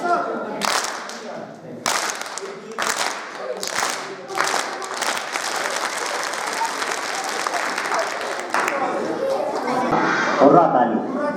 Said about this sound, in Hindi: अब हम चलाएंगे बंदूक ताली।